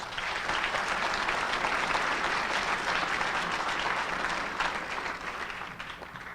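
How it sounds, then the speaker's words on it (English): A crowd applauds congressional election candidates at a public forum, steady full clapping that holds for several seconds and then thins out toward the end, no talking. "Please give them a round of applause."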